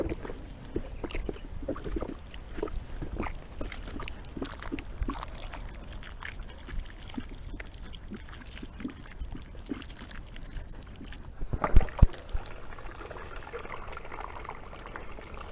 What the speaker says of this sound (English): Do it really carefully, all the water is spilling out.